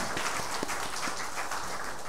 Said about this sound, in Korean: 우리 격려와 또 기도의 박수 함께 보내주시기 바랍니다